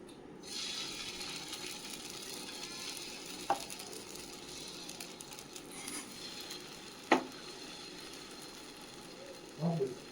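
Dosa batter sizzles softly on a hot pan, a faint steady hiss broken by a few sharp clinks and scrapes of a utensil; no voices are heard.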